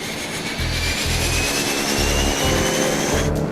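Airliner engines roar in a steady, loud jet whine with a pulsing low rumble as the aircraft prepares to taxi, heard close and continuous throughout.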